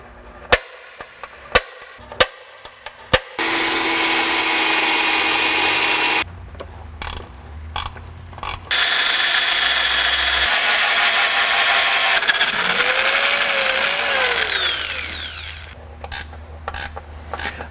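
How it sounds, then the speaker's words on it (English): A power drill bores mounting holes during a Fairmont car project's final fitting, with two long, loud sustained runs separated by short gaps and a few sharp clicks and knocks at the start and end. "that'll be where I drill my holes"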